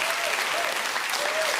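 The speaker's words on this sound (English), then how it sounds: "an audience of other old people that are like clapping for this" Studio audience applause, a dense, even roar of many hands clapping at once, steady and fairly loud throughout with a few faint voices rising through it.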